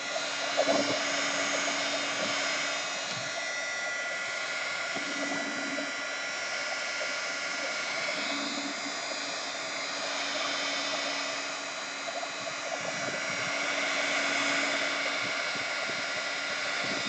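A hair dryer blowing on wet artwork, a constant loud close whoosh with slight shifts in tone as it is moved around, heard alone without talk.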